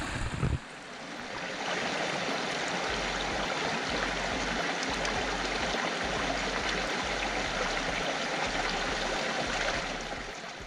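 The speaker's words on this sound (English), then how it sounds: "And there's some fresh water streaming from here." Fresh water stream flowing near a zoo in Goa, a steady broadband rush that fills the whole stretch at constant loudness, with no talk over it.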